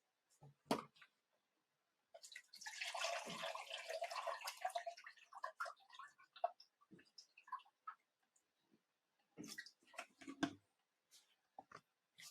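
Distilled water pours into an AeroGarden hydroponic reservoir, a close trickling splash lasting a few seconds, followed by scattered drips, small knocks and handling sounds in a quiet room.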